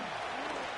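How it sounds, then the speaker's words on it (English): Simulated stadium crowd applause in the Madden 23 American football video game, a steady broadband roar of clapping and cheering after an incomplete pass, sustained without a break. "How about some applause for the defense there?"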